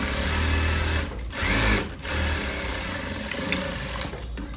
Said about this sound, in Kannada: ಈಗ ಫೈನಲ್ ಆಗಿ ಕೊನೆಯದಾಗಿ ಇನ್ನೊಂದು 3 ಹೊಲಿಗೆ ಹಾಕಿರ್ತೀವಿ.